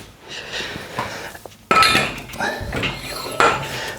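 Heavy metal weight plates in an old-school basement gym clank and rattle against each other, a few sharp metallic hits with jingling ringing in between, close by and with no talk.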